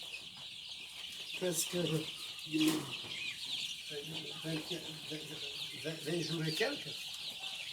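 Farm-raised broiler chickens about twenty days old cluck and chatter steadily in a barn, a busy flock murmur close by, while someone speaks French over it.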